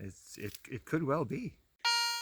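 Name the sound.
metal detector ringing on silver nuggets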